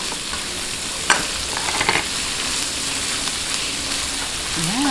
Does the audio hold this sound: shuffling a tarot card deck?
no